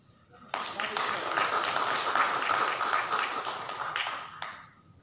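Audience applause fills the hall at a public service innovation award ceremony, a dense burst of many hands clapping that rises quickly, holds for about four seconds, then fades out.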